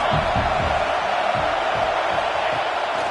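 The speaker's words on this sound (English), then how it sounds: "This crowd trying to make life miserable for this offense." Stadium crowd at a Nebraska college football game roaring continuously and loudly, a dense wash of voices and cheering sustained throughout with rhythmic low thumps underneath.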